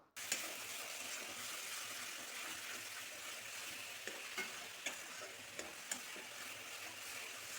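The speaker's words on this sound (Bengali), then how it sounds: "যে মশলার পেস্টটা করেছিলাম সেটা তো আমি কড়াইতে দিয়ে নাড়ছি" Spice paste frying in a wok while being stirred, a steady loud sizzle running throughout with a few sharp scrapes of the spoon against the pan near the end.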